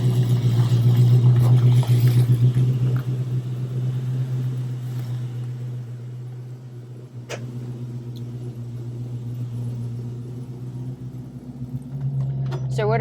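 A 1968 Mustang Fastback fitted with a Holley Sniper EFI pulls away, its loud low engine drone rumbling steadily from inside the car, dipping slightly midway then swelling again.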